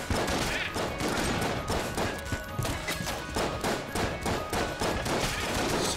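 Shotgun-wielding enemies in the video game Enter the Gungeon blast away in a dense, nonstop barrage of overlapping shots and thuds, loud and chaotic throughout.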